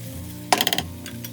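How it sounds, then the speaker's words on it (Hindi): Boiled chana daal tipped into sizzling masala in a pan, a sudden brief clatter and splash with a few quick clinks, then a low simmer. "दाल जो मैंने बॉयल होने रखी थी वो बॉयल हो गई है। अब मैं इसके अंदर डाल दूँगी।"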